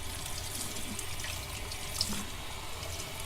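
Warm water runs steadily from a tap into a sink, a continuous close splashing rush with no talk.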